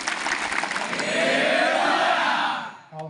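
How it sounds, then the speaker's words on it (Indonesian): Applause and crowd noise from an audience at a leadership camp held at a Qur'an boarding school, loud and dense for about two and a half seconds before dropping off, with a brief voice at the end. "Berikan tepuk tangan yang terbaik."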